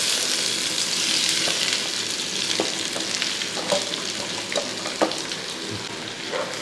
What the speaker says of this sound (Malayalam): ആ മസാല ഒന്ന് മൂത്ത് വരുമ്പോഴത്തേക്കും നമ്മൾ നേരത്തെ അരിഞ്ഞ് വെച്ചിട്ട് സവോള ഒന്ന് ഞെരടി അങ്ങോട്ട് ഇട്ട് കൊടുക്കും